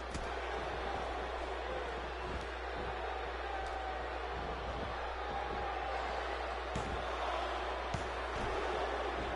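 Steady arena crowd roar from a WWE 2K16 wrestling match, a continuous dense murmur with occasional sharp thuds and slams punctuating it.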